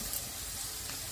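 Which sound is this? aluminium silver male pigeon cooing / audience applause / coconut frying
coconut frying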